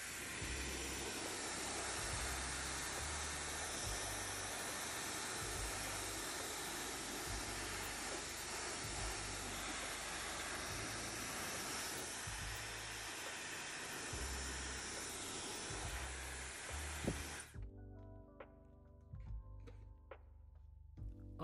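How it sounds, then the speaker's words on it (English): A hairdryer blows steadily to clear excess water from a washed Rolex watch, a loud continuous rushing whoosh that cuts off abruptly near the end, leaving faint clicks and handling noises. "you can use a hairdryer to get rid of the excess water"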